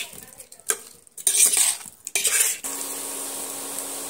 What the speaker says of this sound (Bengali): দিয়ে আমি আবারও সুন্দর করে পেঁয়াজের সঙ্গে এইভাবে আবারও একটু কিছুক্ষণ ধরে ভেজে নিচ্ছি।